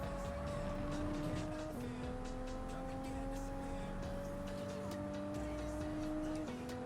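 A race car in Gran Turismo 7 drones loudly and continuously, its engine pitch climbing through gears and dropping sharply as it brakes for a corner, then rising again on the exit.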